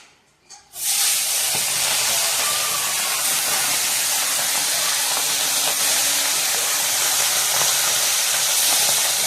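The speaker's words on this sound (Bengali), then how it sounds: "পমফ্রেট মাছ ভাজা চলছে" Pomfret fish fries in hot oil in a home kitchen, giving a loud, close, continuous hissing sizzle that starts abruptly and holds steady throughout, with no talk over it.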